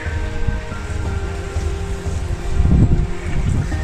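Strong wind buffets the microphone with low rumbling gusts, growing heavier near the end, over a hum like a boat's engine and open water, on a sailing passage from Panama to Galapagos.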